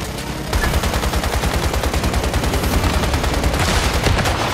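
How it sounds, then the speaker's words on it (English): Minigun firing in the video game Once Human, a loud continuous rapid rattle of gunfire that starts abruptly after a brief pause and holds steady to the end. "Oh, I just ran out of ammo with the minigun."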